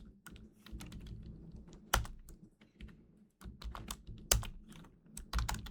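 Code is typed on a computer keyboard in quick, uneven bursts of clicky keystrokes, with a few louder presses and short pauses, heard close and alone.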